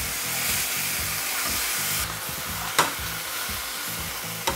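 Tofu frying in mushroom-flavoured oil for a bibimbap plate gives a steady, close hissing sizzle with a couple of brief sharper pops, over faint background music.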